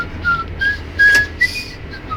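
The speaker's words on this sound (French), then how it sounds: "Ouais, je sais siffler." A person whistles a few short, clear notes of the Marseillaise close to the listener, with small gaps between the phrases and a brief breathy burst partway through.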